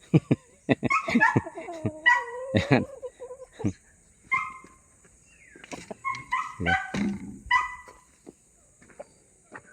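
Several dogs barking and yipping close by in uneven bursts at feeding time on a farm, with brief whimpers, and someone speaking a word among them.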